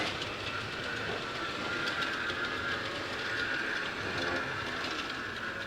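A model railroad RDC pair rolls steadily along the layout track during an operating session, giving a continuous close running rumble with light rail clicking throughout and no talk.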